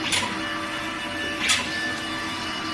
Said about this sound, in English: It's a massive inkjet printer, I presume.